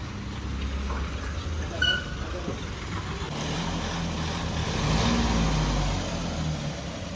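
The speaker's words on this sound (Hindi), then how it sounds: "अब खोलते हैं गेट और गाड़ी को लगाते हैं अंदर।" Mahindra Bolero SUV pulled in through a home gate at low speed, a steady mid-range engine rumble with a slight rise in revs, moderately close, with faint background noise and no clear talk.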